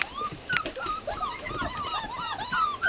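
Red standard poodle puppies on their first time outside whimper and yip in high, thin cries. The cries are close and repeated, with occasional soft sounds from adult dogs in the background.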